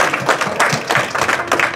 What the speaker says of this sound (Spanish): otro aplauso fuertote, gracias.